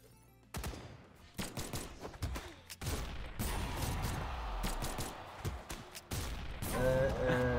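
Gunfire and hits ring out in a Brawlhalla match: sharp, loud bursts and rapid volleys come in quick succession, close and punchy, with game music and effects layered over them.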